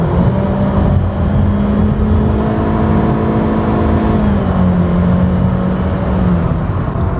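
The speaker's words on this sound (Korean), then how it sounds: "가속 페달을 끝까지 밟으면 이렇게 좀 쥐어 짜내는 그런 소리가 납니다" Honda Civic gasoline engine under full throttle, a loud, thin, strained drone that holds steady and then eases slightly in pitch, continuous and close with road noise beneath.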